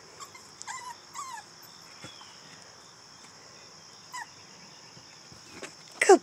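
A puppy whimpers in thin, high, wavering whines, a few brief cries spaced across the stretch, with a louder yelp near the end over a steady faint hiss of insects.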